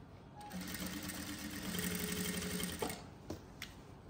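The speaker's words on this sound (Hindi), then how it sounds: "यह आधा आधा इंच का मार्जिन रख के ना और यह सिलाई लगा दूंगी।" Sewing machine stitching a Haryanvi daman skirt with a half-inch margin, a steady close whirring run of about three seconds that stops, followed by a few faint handling clicks.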